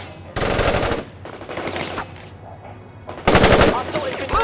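Machine gun fire in the video game World In Conflict comes in loud, sustained bursts with short gaps between them, close and dominant, with shouted battlefield voices mixed in between the volleys.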